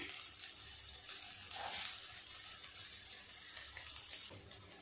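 Mixed vegetables for chira pulao, flattened rice, fry in a pan with added sugar while a spoon stirs them, giving a soft, steady sizzle with faint scraping, quiet and close, with no talking.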